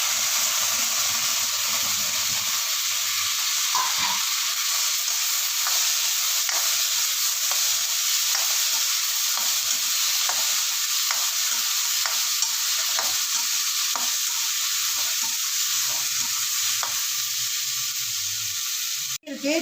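Tomatoes fry in a pan for a cauliflower gravy, giving a steady loud sizzle with scraping stirs throughout and no talk until a brief clatter at the end.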